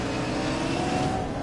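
Engine roar from a McLaren 570S coupe supercar in the racing game Need for Speed Payback, a continuous mid-level drone with a gently rising tone and no voices over it.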